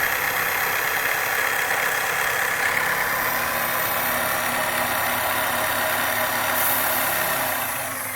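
A handheld jigsaw's motor whirring steadily and climbing in pitch as the trigger is squeezed harder, close and continuous, no talking.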